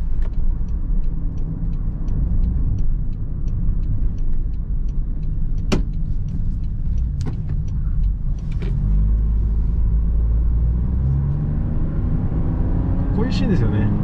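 A Toyota Sienta gasoline engine rumbles steadily from inside the cabin, its drone rising as the throttle is pressed nearly halfway, with a few faint clicks and taps.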